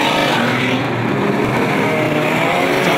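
Unlimited banger stock cars race around an oval track at Mildenhall, a loud continuous roar of several engines blending together as they speed down the back straight, with no other sounds breaking through.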